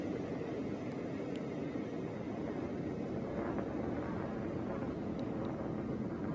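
Blue Origin New Shepard rocket's BE-3 engine at full power over West Texas, heard as a steady, distant, low rumbling roar with airy broadband noise and no voices.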